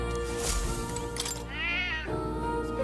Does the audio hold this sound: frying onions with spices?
no